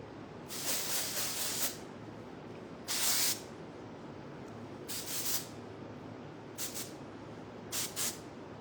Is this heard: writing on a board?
no